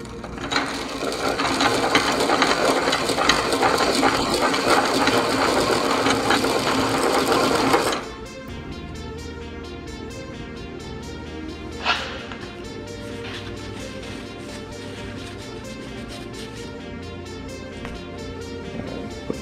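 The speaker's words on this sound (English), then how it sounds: "so you can kind of watch me file these rings" A file works a piston ring resting on a ring filer, part of fitting rings for a BMW E36 M3 turbo engine. The grinding is loud and steady for about eight seconds, then gives way to quieter clicks and handling noise.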